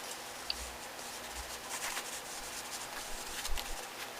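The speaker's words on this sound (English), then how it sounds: "And here I'm using some yellow oxide. And rubbing it all around." Yellow oxide paint rubbed across an art journal page for an abstract grunge spread, a soft, steady scuffing friction sound that is faint and continuous, with no talking.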